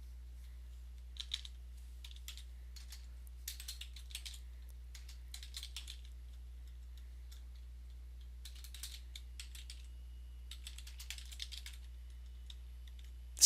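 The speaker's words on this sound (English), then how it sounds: "Typing in the zip, going slowly, trying not to make any mistakes." Slow, careful typing on a computer keyboard entering a zip code into a database form field, with sparse clusters of soft key clicks separated by pauses over a low steady hum, quiet and close.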